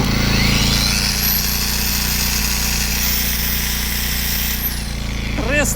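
A Black & Decker 2200 W portable generator runs steadily in eco mode at a low, even idle, a constant droning hum with a faint high whine over it.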